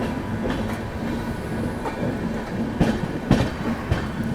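The Dibrugarh–New Delhi Rajdhani Express rolls past in fog, a steady rumble of carriages with rhythmic wheel clicks and a few sharper clacks on the rails, moderately loud and without voices.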